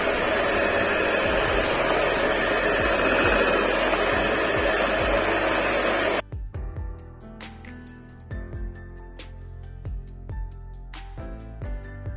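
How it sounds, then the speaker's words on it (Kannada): An electric blender whips cream at low speed for homemade vanilla ice cream, giving a steady, loud motor whir for about six seconds before cutting off abruptly, followed by light clinks and handling sounds. "ವಿಪ್ಪಿಂಗ್ ಕ್ರೀಮ್ ಮಾಡಬೇಕಾದ್ರೆ ನಾವು ಲೋ ಸ್ಪೀಡಲ್ಲೇ ನಾವು ಬ್ಲೆಂಡ್ ಮಾಡ್ಕೊಬೇಕು"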